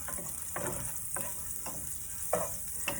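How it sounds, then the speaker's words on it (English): Food frying in a pan while being stirred for rajas con crema, with a faint steady sizzle and rhythmic scraping strokes of the utensil about every half second. "I'm gonna go ahead and mix it around, blend it"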